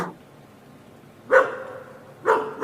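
Dogs barking, with two sharp, loud barks spaced about a second apart after a fainter one at the start. They are fairly close, and nothing else is heard in the quiet between them.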